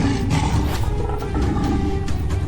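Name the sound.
lion roaring loudly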